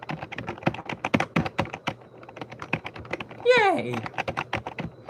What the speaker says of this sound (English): I know you can hear the absolute mashing on my keyboard.